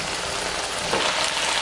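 Chicken hits a hot pan of Manchurian sauce on high flame and sizzles steadily, a dense close hiss of frying with no talk.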